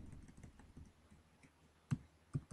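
Code typed on a computer keyboard: soft, quick key taps in an uneven patter, close and quiet, ending with a few sharper louder clicks.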